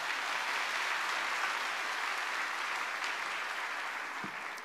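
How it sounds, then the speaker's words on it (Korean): Steady, dense applause from a church congregation at a Sunday worship service in Korea, welcoming a visiting seminary professor and pastor to preach; the clapping is even and sustained throughout, fading slightly at the end. "큰 박수로 우리 교수님 모시겠습니다."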